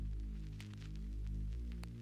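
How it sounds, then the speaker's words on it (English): A clean, undistorted sub bass from a hip-hop beat hums in low sustained tones, shifting pitch once midway, with faint clicks above it and no voices. "like really clean, like a sub bass"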